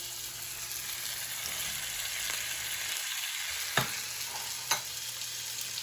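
Minced garlic and red peppers fry in a pan with a steady background sizzle, a brief low rustle as they are added, then two sharp utensil clicks against the pan, with no one speaking.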